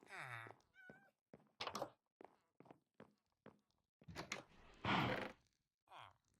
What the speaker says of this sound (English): there should be villagers here. And indeed, it does sound as though there are